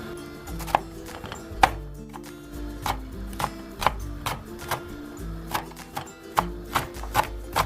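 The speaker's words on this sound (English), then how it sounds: "Now I'm going to slice the remaining half of the onion." A knife slices through half an onion for Nigerian ayamase stew, producing about a dozen crisp, irregularly spaced taps against a cutting board, close and clear with quiet gaps between cuts.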